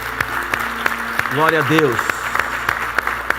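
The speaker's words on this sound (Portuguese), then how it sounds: "Vamos aplaudir ao Senhor." Church congregation applauding during a sermon, a steady wash of clapping running throughout beneath a voice speaking a short phrase.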